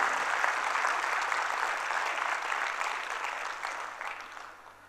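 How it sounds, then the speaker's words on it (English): Audience gives a teacher a round of applause, a broad, dense wash of clapping from a large crowd that holds steady and then gradually tapers off toward the end. "Let's give a big round of applause to Vaishali"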